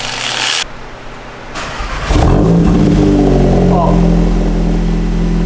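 A VW Golf Mk8 GTI fitted with an iE downpipe and resonator starts and settles into a loud, steady idle with a deep low drone, after a brief voice at the start.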